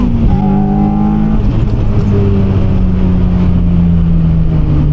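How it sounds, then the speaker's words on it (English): A car engine revving hard while overtaking, a loud, close, continuous drone whose pitch climbs, drops briefly with a shift, then slides steadily lower as the revs ease off, with no voices. "you just rev it out"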